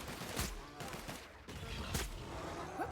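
Gunfire in The Outer Worlds video game, a handful of sharp shots at uneven intervals, fairly faint, with quieter gaps between them.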